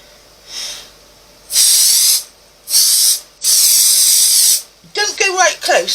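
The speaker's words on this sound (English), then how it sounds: "you take your 505, and again, we're going to spray our batting" 505 spray adhesive hisses from an aerosol can onto quilt batting in four loud, close bursts, one short and three longer, before a voice starts talking.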